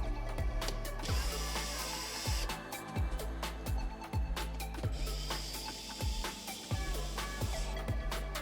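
Bolts on the exhaust of a Kawasaki KLR650 motorcycle are given a final tightening with a ratchet wrench: steady bursts of close, rapid metallic clicking, repeated in a fairly even rhythm, with no talking.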